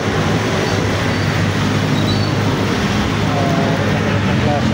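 A light rail (LRT) train passes nearby, a steady loud rumble of rail and traffic noise filling the whole stretch at an outdoor surplus trading yard, with no voices standing out.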